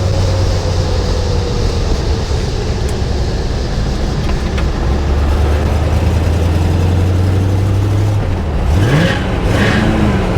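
A 1956 Chevy Nomad fitted with a 5-speed Tremec gearbox drives along, its engine a loud, steady low drone that shifts pitch and then swoops up and down near the end as the revs change.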